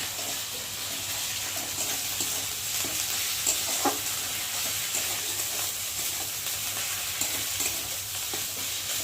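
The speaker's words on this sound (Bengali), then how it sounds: "মশলাটা ভাজা ভাজা হয়ে গেছে।" Spice masala fries in oil in a pan for a country chicken red curry. The sizzle is steady and close, with a few scraping stir sounds and no talking.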